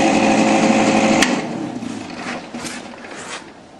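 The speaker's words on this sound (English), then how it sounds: "When your welder's running and you squeeze the trigger, the wire starts to feed out." Wire feed motor of a MIG welder running as the trigger is squeezed, a steady close high whine that cuts off after about a second, followed by fainter mechanical noise.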